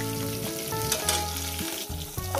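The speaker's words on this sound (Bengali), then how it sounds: "একবারে ভেজে নিচ্ছি" Rohu fish heads fry in hot oil with a steady, close sizzle and crackle, broken by brief scraping stirs, with no voices.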